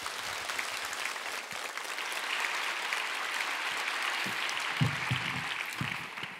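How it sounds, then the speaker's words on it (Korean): A church congregation gives sustained applause, an even wash of many hands clapping in a large room, moderately loud, with a few closer, heavier claps toward the end. "보내시고 세우신 하나님께 영광의 박수 올리겠습니다."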